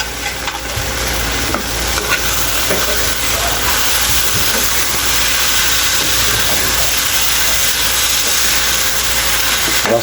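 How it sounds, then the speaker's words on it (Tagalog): Canned sisig with tofu frying in a hot pan, a loud continuous sizzle and crackle with occasional stirring scrapes, close and steady throughout, with no talking. "Sizzling sisig."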